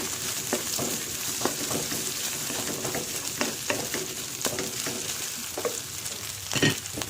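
Pancit bihon rice noodles with leftover ingredients frying and being stirred in a pan, a continuous loud sizzle broken by frequent clicks and scrapes of a utensil.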